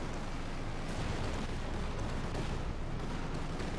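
Company of Heroes 2 battle audio plays as a constant, dense rumble of artillery and explosions, loud and unbroken for the whole span, with no talk.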